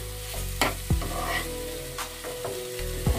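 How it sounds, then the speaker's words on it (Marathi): Masala frying in a pan for dal fry, a steady close sizzle broken by a few sharp scrapes and clicks of a stirring spoon. "मसाला फ्राय होतोय"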